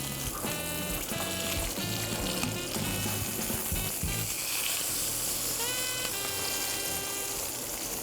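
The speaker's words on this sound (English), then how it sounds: "We're just going to gently paint the beef with the butter and the herbs." Beef steak for bistecca alla Fiorentina sizzles steadily in a pan as it is basted with butter and herbs, a loud continuous frying hiss with busy crackle and some music-like tonal sounds over it.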